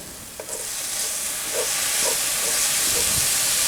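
Garlic fries in a pan for catfish courtbouillon with a loud, steady, hissing sizzle that holds without a break. Faint stirring scrapes sit underneath.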